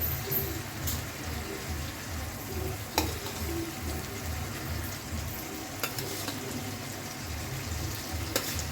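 Fried fish going into a pan of spice masala cooked down in mustard oil, a steady low sizzle with occasional clinks of a utensil, close and continuous while birds coo faintly in the background.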